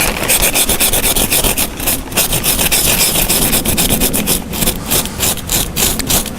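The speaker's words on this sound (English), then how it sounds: "I'm using 50 grit sandpaper because it eats it right away, roughs it out quickly." Coarse 50 grit sandpaper is rubbed hard over foam while shaping an Asian elephant skull armature, giving a loud, close, continuous rasping scrape in quick back-and-forth strokes.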